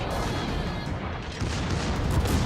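Warship main guns fire in the naval combat game World of Warships, a dense, rumbling barrage of heavy booms blending into one continuous roar, loud and alone.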